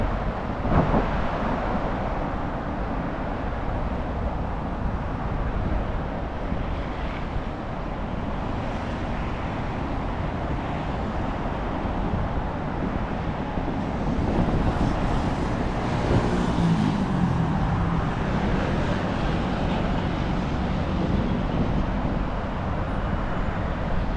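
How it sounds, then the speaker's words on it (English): A train rumbles past in Bangkok, a steady broad low roar that stays loud and continuous throughout, swelling slightly toward the end, blended with city traffic noise and no voices. "Then you hear the train rumbling down."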